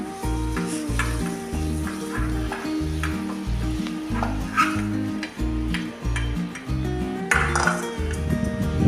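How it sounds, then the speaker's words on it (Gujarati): Paneer cubes fry in a pan on a gas stove, a steady loud sizzle broken by rhythmic clinks and scrapes of a utensil stirring against the pan. "આવી રીતે આપણે ફ્રાય કરવાનું છે પનીરને."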